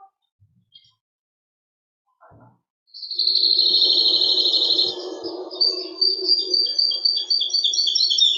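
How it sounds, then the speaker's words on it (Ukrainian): After a few faint taps, birdsong breaks out in a forest: bright sustained trills and chirps, loud and close, continuing steadily over quiet natural background. "Ось так гарно в лісі співають пташки."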